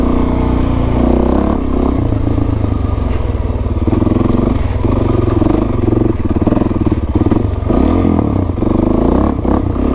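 A modified Suzuki DRZ400S dirt bike engine drones steadily and loud through an off-road ride, with rising and falling revs, clatter and scraping over rough ground.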